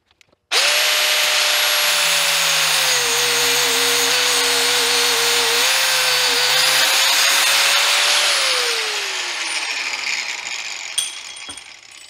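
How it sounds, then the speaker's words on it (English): A power tool starts with a sudden whine and cuts into a carry handle. Its pitch dips and wavers under load for several seconds, then winds down to near silence with a faint clink. "I'm gonna cut here, and I'm gonna cut here while trying not to hit my screws"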